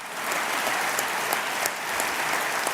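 A crowd applauds in one continuous, even wash of clapping, moderately loud and close, with a few distinct claps popping out above the rest.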